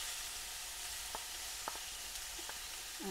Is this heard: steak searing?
yes